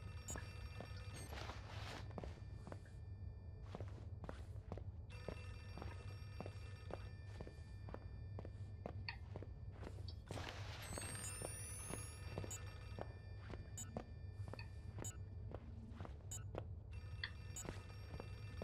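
A telephone rings repeatedly in the horror video game Outlast, sounding as a series of sharp, evenly spaced bell bursts over a low steady hum and faint footsteps, with no one talking over it.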